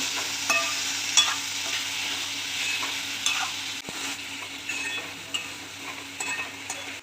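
French beans and potato curry stirred in a pan, giving a steady soft sizzle broken by scraping spoon strokes at irregular intervals, close and moderately loud with no voices.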